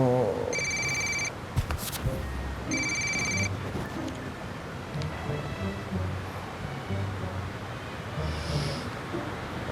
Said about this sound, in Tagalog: isang tawag sa cellphone ang natanggap ko